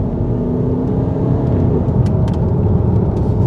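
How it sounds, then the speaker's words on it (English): A 2016 Range Rover Evoque pulling hard in third gear from around 3,000 RPM, a steady, loud cabin roar of engine and road noise with a constant low rumble throughout and no voices. "I'll put my foot down a little bit, see what it can do"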